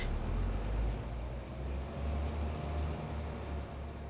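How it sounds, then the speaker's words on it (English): A farm truck idles and rumbles as it is moved, its deep steady engine drone close and continuous with a faint whine riding above it. "I'm just gonna move this truck"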